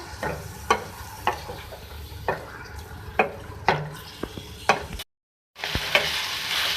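Chicken liver sizzles in a pan with ginger-garlic paste as a spoon stirs it in steady scraping strokes, close and clear, broken by a brief gap before a louder hiss of frying returns.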